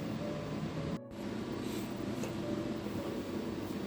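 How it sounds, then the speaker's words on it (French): A terrarium ventilation fan runs with a low, steady whirring hum at modest volume, with a momentary dropout near the start. "Donc là ce que vous entendez c'est la ventilation."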